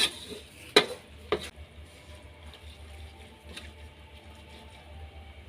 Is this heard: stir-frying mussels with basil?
yes